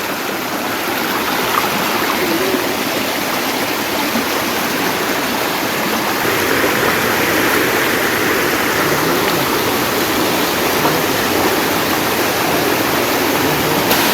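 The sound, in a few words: fast-flowing stream water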